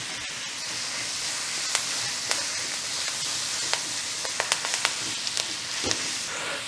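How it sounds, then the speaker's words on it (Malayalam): Curry leaves sizzle and crackle in frying onion masala for a Kottayam-style pepper pork fry. A steady close hiss of hot oil runs throughout, with sharp pops scattered through it. "ഇനി കുറച്ച് കറിവേപ്പില ഇട്ടിട്ടുണ്ട് കേട്ടോ."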